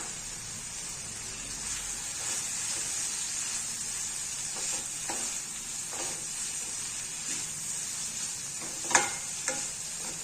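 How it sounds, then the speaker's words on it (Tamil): Chicken being stirred in a pan with a handful of fresh curry leaves for Pallipalayam chicken, a steady sizzling fry with soft hiss throughout and occasional scraping stir clicks, close and moderately loud, no talking. "இப்போ இதில் ஒரு கொத்து கருவேப்பிலைய பச்சை கருவேப்பிலைய போட்டு நம்ம கிளறிக்கலாம்"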